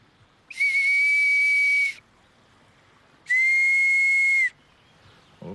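A homemade willow bark whistle sounds two long, steady, shrill blasts, separated by a pause, loud and close.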